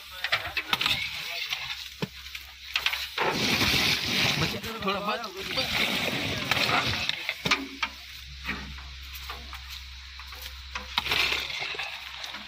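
Water sloshes and splashes as dates are strained while cooking Chohara at home, with bursts of pouring and swirling liquid alongside a person talking.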